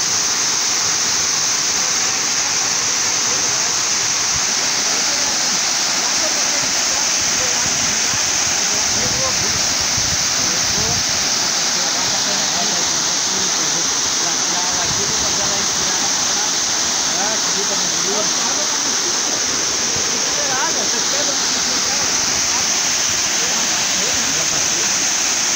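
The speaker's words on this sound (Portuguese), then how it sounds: "Gente, Cascata do Português, olha, me apaixonei." Cascata do Português, a waterfall in southern Brazil, roars as a steady broadband rush of falling water, loud and continuous throughout, with faint voices underneath at times.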